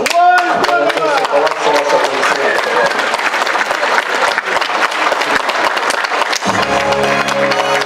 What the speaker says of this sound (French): j'aimerais vous demander vraiment de l'applaudir très fort, c'est Nadine Sokolan